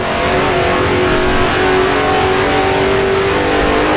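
A race car engine in a racing video game on the Greenwood Roadway circuit revs loud and continuous through gear changes, holding a close, steady, buzzing drone.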